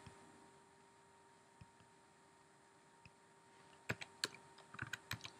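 Typing on a computer keyboard: faint isolated key clicks at first, then a quick burst of close, crisp keystrokes over a soft steady hum.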